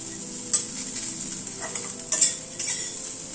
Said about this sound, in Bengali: পোস্তটা দিয়ে একটুখানি নাড়াচাড়া করে নেব।